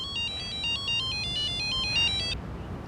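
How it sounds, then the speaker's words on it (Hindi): A phone ringtone plays a repeating electronic melody for a couple of seconds, then cuts off abruptly, over low background hum. "राम कृपाल जी को भी अभी फोन करना था"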